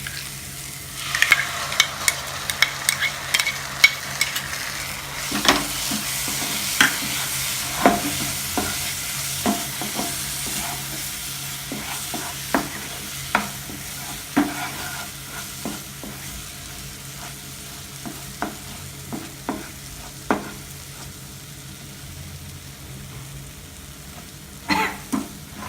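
Cashew nut paste sautés in oil in a pan for paneer butter masala, with a constant soft sizzle. Repeated scraping strokes from a spoon stir the thick paste, and no one speaks.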